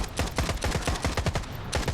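Rapid bursts of gunfire in the game S.T.A.L.K.E.R. 2, sharp repeated shots in quick succession, loud and close, with no talking.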